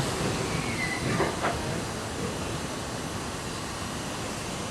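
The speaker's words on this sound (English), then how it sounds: "As soon as the train stops, we'll be all clear." A Magic Kingdom steam train moves and comes to a stop, heard as a broad, steady hiss with faint rumbling underneath and a couple of brief squeals, fairly close and without speech.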